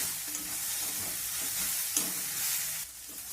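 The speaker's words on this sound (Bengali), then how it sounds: "এখন আমি দিয়ে দিলাম পরিমাণ মতো হলুদের গুঁড়ো অল্প একটু লঙ্কার গুঁড়ো" A pan of winter-vegetable filling for vegetable chops is stirred after turmeric and a little chili powder go in, with a steady close sizzle and soft scraping running throughout.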